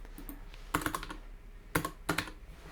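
Code for a C++ NES emulator is typed on a computer keyboard in a few quick clusters of close, crisp key clicks separated by short pauses.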